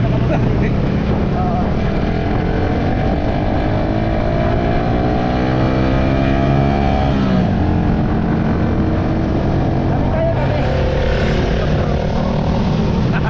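A loud motorboat engine drones steadily throughout, its pitch rising and falling slightly, with wind and water noise mixed in.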